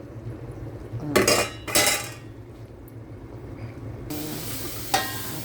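A metal lid is set and shifted on a cooking pot, two sharp clattering rattles followed by a longer scraping clink, close and distinct against a quiet kitchen hum.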